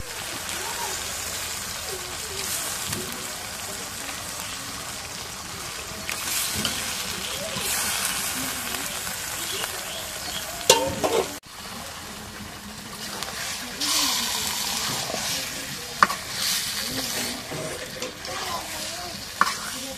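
Meat hitting a fried spice paste in a pan, sizzling and frying steadily with a broad hiss, occasional stirring scrapes and clatters; the sizzle stays continuous and fairly close throughout.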